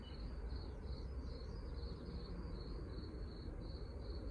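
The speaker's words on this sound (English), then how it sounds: "Crickets. Literally fucking crickets." Crickets chirp in a steady, pulsing trill over a low rumbling background, continuous and fairly faint throughout.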